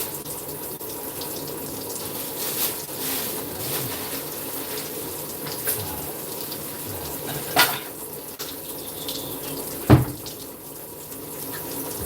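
Kitchen tap water runs steadily into a sink while sinigang, a Filipino pork dish, is prepared, a continuous close hiss with a few brief clinks and knocks of dishes near the end.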